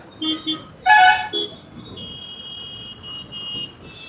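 A vehicle horn gives two short toots, then a louder, longer honk nearby, followed by a faint, sustained tone in light traffic noise.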